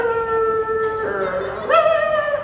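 A human voice imitates an Indian street dog howling: one long, wavering, tuneful howl that dips in the middle and then swells louder and higher at the end.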